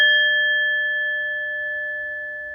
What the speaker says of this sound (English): Let's set the tone with a little ring from the gong.